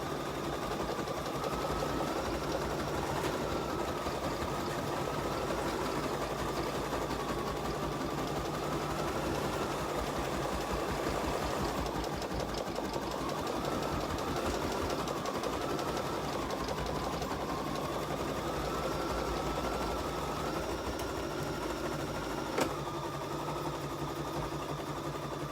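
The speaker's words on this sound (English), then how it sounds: "what it's going to stitch out is just the tack down line in the shape of our pumpkin" An embroidery machine runs at slow speed, stitching a tack-down outline in the shape of a pumpkin with a steady, even mechanical whir and rhythmic needle chatter, continuous and close with no talking.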